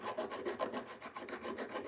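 A file rasps back and forth across the teeth of a ratchet and pawl gear to remove burrs, quick close strokes repeating in a steady scraping rhythm.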